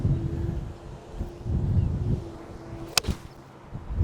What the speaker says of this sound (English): that gust of wind is strong